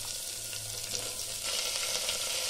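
Broad bean pieces go into a pan of half-fried onions and curry leaves, a steady close sizzle that grows a little louder halfway through, with no voices.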